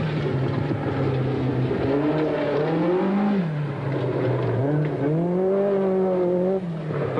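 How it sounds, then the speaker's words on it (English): Hillman Avenger rally car driven hard on a gravel special stage in the 1978 New Zealand rally, engine revving loud and close with rising and falling pitch through gear changes. The car has lost synchromesh in second gear. "Further back, Trevor Crowe throwing his Avenger around"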